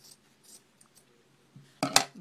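Scissors snip through orange material to cut out a triangle-shaped beak, a few faint quiet clicks followed by a louder, close crisp double snip near the end.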